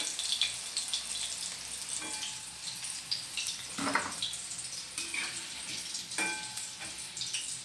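Browned chicken pieces are strained out of hot oil for chili chicken, with a steady hiss of sizzling oil throughout and a few brief scrapes and clinks from the strainer, close and unaccompanied by speech.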